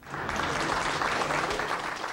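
Applause in the Canadian House of Commons, a dense, steady roar of many hands clapping that holds at an even level throughout, with faint voices mixed underneath.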